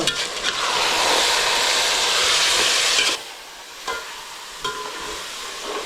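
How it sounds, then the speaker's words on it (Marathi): Chicken curry for biryani bubbling and sizzling loudly in an uncovered pot, a steady hissing boil for three seconds, then a quieter simmer broken by a few clanks. "बघ किती ते खतखत आहे"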